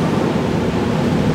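Ocean wave recording played as spa ambience, a loud steady wash of surf noise filling the short moment without breaks or voices.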